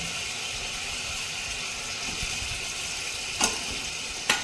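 Katla fish pieces go into a pan of hot, thick spice masala for a festive-style spicy curry, giving a steady close sizzle with two sharp crackling bursts near the end.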